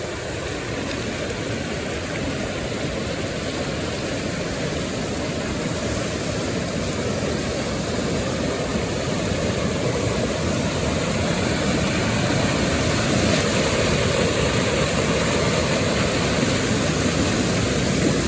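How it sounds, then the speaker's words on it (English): Winter floodwater rushes in a continuous broadband roar, steady and fairly loud throughout with no talking. "look at all that water go"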